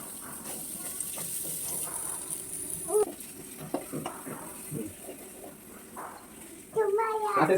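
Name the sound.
onions frying in oil in a kadai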